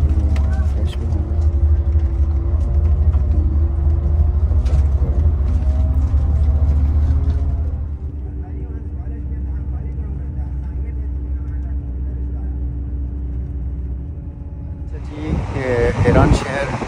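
Steady low engine drone and road rumble inside a long-distance bus travelling from Iranshahr toward Chabahar in Iran, continuous throughout with a brief rise in noise near the end, and voices talking over it.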